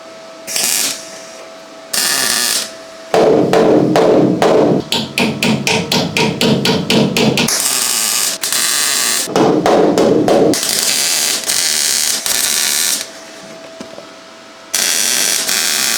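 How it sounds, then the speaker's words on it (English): MIG welding a new patch panel into a Ford Fiesta XR2 body, harsh buzzing crackle in repeated short and longer bursts with brief pauses between, loud and close, no talk. "Let's get it welded in and get on to the next one."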